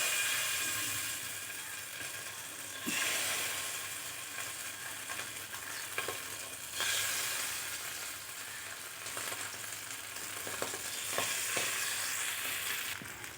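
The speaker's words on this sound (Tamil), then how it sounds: "இப்போ நம்ம அதை அப்படியே தவாவில் போட்டு பொரிச்சு எடுக்கலாம்" Small fish fry in hot oil in a pan, giving a steady, fairly quiet sizzle that swells and eases over time, with a few soft clicks of handling and no talk.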